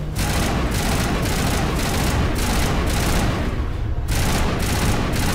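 Sustained automatic gunfire in the game Mass Effect 1, loud and continuous bursts of rapid shots with brief pauses, dense and close throughout.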